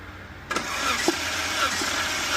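BMW M54 inline-six in a 2004 325Ci E46 cranking on the starter during a compression test on cylinder five, a steady churning drone that starts abruptly and holds close and even for about two seconds.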